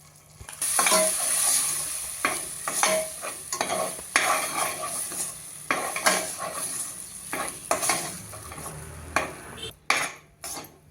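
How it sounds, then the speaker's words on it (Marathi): Ground fresh green pea paste is stirred into roasted semolina in a pan, with repeated scraping strokes of a spoon against metal over a gentle sizzle, close and irregular in rhythm, a few sharper clanks near the end. "त्याच्यावरती हा वाटलेला हिरव्या दाण्यांचा मटारचा गोळा घालून परतूया"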